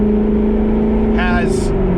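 Chevrolet C7 Corvette fitted with an AWE aftermarket exhaust, a steady low engine drone close by with a brief rising rev near the end, heard beneath someone talking.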